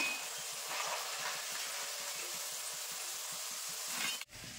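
Raw potato fingers deep-fry in hot oil while being turned, giving a steady, soft hiss of sizzling bubbles that runs unbroken and cuts off abruptly near the end.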